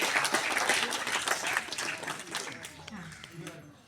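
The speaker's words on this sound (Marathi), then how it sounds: "छोट्या मुलांसाठी जास्त टाळ्या वाजल्या पाहिजे." Crowd clapping for small children at a primary school Independence Day event, fairly dense applause that thins and fades toward the end as an adult voice speaks over it.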